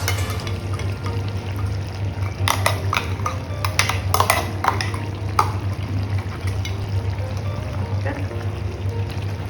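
Ground roasted coconut paste being mixed into a simmering chicken curry in a pot, heard as a cluster of sharp spoon clinks and scrapes over a constant low hum, with a wet stirring texture throughout.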